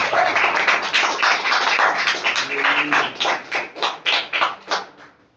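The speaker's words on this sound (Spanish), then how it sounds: "Dale un fuerte aplauso a ese Dios Todopoderoso" A church congregation gives loud applause, first a dense wash of clapping, then settling into rhythmic, in-time claps before fading.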